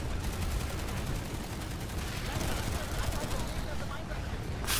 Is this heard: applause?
no